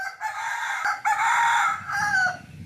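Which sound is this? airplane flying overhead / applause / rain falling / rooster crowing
rooster crowing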